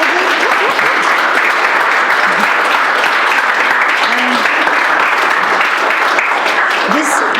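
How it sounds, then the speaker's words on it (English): A conference audience applauds after a talk on data challenges in the AEC industry: a continuous, even roar of many hands clapping, loud and sustained, with brief voices surfacing now and then within it. "Let's give a round of applause for Edwin."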